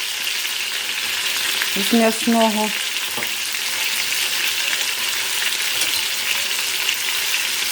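Steady sizzling of food frying in a hot pan, loud and close, with a few brief words spoken over it.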